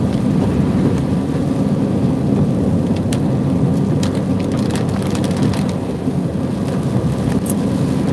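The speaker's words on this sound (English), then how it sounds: "rain is pouring." Heavy rain pours steadily in Santa Cruz, Jamaica, a dense, loud hiss throughout, with low thunder rumbling underneath and a few sharp crackles.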